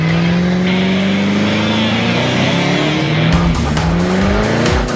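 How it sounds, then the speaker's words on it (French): A taxi held in place spins its rear tires in a loud, continuous burnout, the engine revving high and steady under a sustained rubber squeal that roughens and swells near the end. "Notre chauffeur de taxi est prêt à faire brûler ses pneus."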